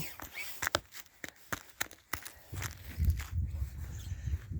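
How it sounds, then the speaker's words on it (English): Footsteps crunch on an icy surface, a series of sharp, uneven crackling steps up close, with a low rumble creeping in toward the end. "Like I can already hear the ice."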